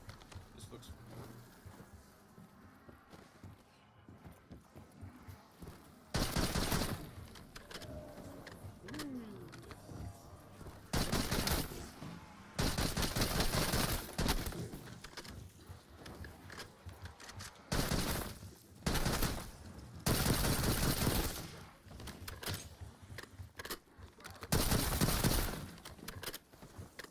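Gobble gun weapon firing in a video game, loud bursts of rapid shots coming in several separate volleys with quiet gaps of game sound between them.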